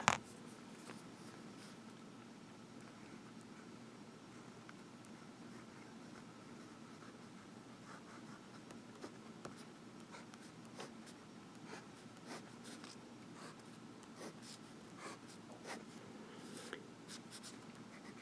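A Visconti Homo Sapiens Magma fountain pen with a medium palladium nib scratches softly across paper, faint strokes and light taps repeating throughout in a quiet room.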